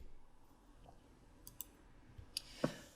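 A computer mouse clicking while working in Microsoft Planner, a few faint, isolated clicks spread over a quiet background, the last one slightly louder.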